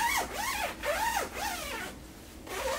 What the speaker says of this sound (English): The zipper for the pockets